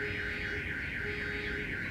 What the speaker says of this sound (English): car alarm that just went off.